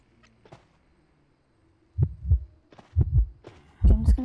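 A video game heartbeat thumps in paired double beats that start faint and grow louder and closer, with three lub-dub pairs over a quiet background.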